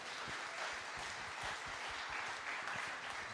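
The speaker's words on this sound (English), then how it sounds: "You got applause for that" Audience applause at a cities mission conference, a steady, dense wash of clapping sustained throughout with no voices over it.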